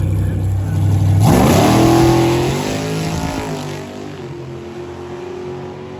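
At a drag racing test-and-tune session, a Glory Gasser and a Demon rev loudly nearby. The engine pitch climbs sharply, holds in a roaring drone, then eases back to a lower rumble.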